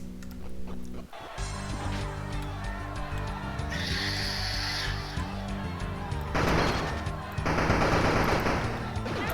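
Tommy gun bursts in a video game, rapid automatic fire in several strings over game music and effects, with loud crashing impacts toward the end.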